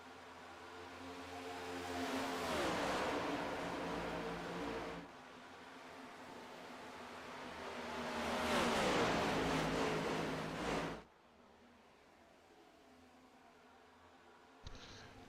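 Stock-car race cars roar around an oval track in a Cup Series racing video game, with two long swelling passes of dense engine noise before the sound drops to a quieter, steadier hum.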